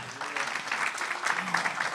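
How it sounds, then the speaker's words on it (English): A room full of people at a community partnership breakfast claps for the youth, with steady, moderately loud applause that rises a little near the end, under faint background voices. "Everybody give a round of applause for our youth."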